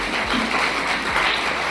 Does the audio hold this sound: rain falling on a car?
no